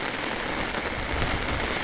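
Steady rain pours down close by in an even, unbroken hiss that holds for the whole stretch, with no voices.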